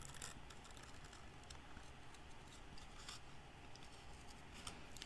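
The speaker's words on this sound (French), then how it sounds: "elle est un petit peu plus délicate à couper" Scissors snip steadily through a delicate, scrap-pieced paper card, a quiet continuous cutting close by with no talking.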